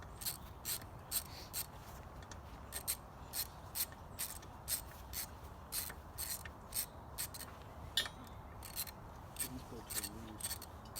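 A ratchet wrench works loose the seven half-inch cylinder head bolts on a Toro GTS Recycler mower engine with a failed head gasket, giving a steady series of short, sharp clicking bursts at close range, repeated through the whole stretch.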